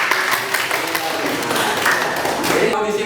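A classroom crowd claps for a good answer, a steady dense patter of many hands that holds for about three seconds, fairly close and even in loudness.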